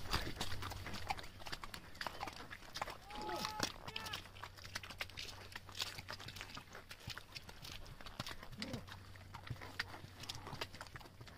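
Ponies' hooves clip-clopping on a mountain trail in Gulmarg, Kashmir, a quiet, irregular series of hoof knocks under faint background noise, with an occasional animal call and a low steady hum.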